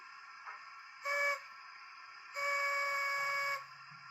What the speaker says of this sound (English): We also now have the shunt whistles.